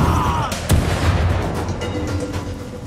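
A booming magic explosion in the video game Lichdom: Battlemage, with a sharp blast early on, then rumbling, crackling reports trailing off.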